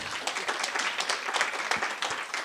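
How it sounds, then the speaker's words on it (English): Audience applause welcomes speakers to the stage at a teaching and learning series event, a steady wash of many hands clapping at moderate volume, fairly distant and even, with little talk. "applause are good"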